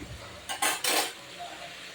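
Pumpkin flowers being stirred in a pan and covered, giving a few quick metallic clinks and scrapes of utensil and lid against cookware, brief and close, over quiet kitchen background.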